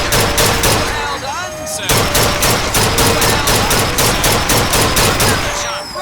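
Rapid gunfire from a shooting-gallery game in BioShock Infinite, a steady run of sharp, evenly spaced shots filling the clip, with a voice speaking briefly over the volley.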